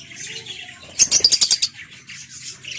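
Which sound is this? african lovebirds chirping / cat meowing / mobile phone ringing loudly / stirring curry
african lovebirds chirping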